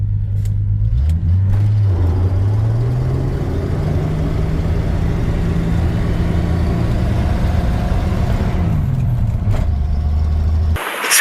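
A loud old truck engine droning close up in second gear during a speed test, its pitch climbing as it accelerates, holding steady and then dropping back toward the end, with no talking.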